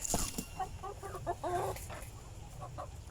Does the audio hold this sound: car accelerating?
no